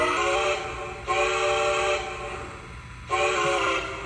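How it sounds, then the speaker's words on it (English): A Lionel LionChief Plus 2-8-4 Berkshire toy train blows its electronic whistle in three sustained, steady blasts separated by short breaks, loud and close, with no talking. "turn that whistle down."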